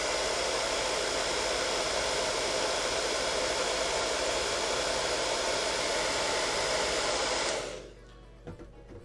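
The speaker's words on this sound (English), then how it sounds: "We'll dry it with a hairdryer." A hair dryer blows hairspray dry on a 1/144 scale model kit. The steady, loud, close rushing roar holds for about seven and a half seconds, then cuts off into near silence.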